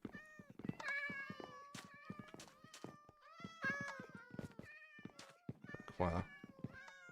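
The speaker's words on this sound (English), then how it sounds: "You're gonna hear a lot of cats in here because there's a lot of cats in here." Several cats meow repeatedly and overlapping in a video game cat cafe, clear high-pitched calls with short pauses and one louder burst near the end.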